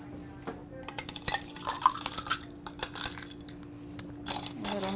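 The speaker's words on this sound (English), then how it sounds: "We're going to fill our glass with the crushed ice." Crushed ice clinks and rattles as it is scooped into a glass for a swizzle cocktail, irregular crunchy clatters and tinkles over a faint steady hum.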